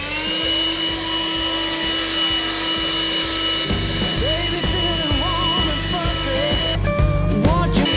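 A Sequoia SBLB4022BT cordless leaf blower runs steadily in its third power mode, a loud continuous whine and rushing airflow that stays close to the mic throughout, with a slight rise in pitch near the end.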